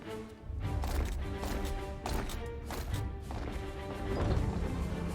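Crashing impacts from a RWBY animated episode, a dense barrage of heavy smashes and thuds recurring roughly every second over a busy, loud soundtrack, with no talk over them.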